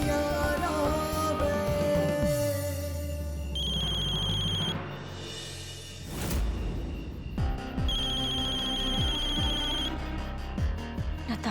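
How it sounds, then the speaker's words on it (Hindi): A telephone rings indoors in a Hindi household drama scene, with a loud, repeating electronic ringtone playing in bursts. Background music tones run beneath it and there is no speech. "नताशा का फोन इस वक्त?"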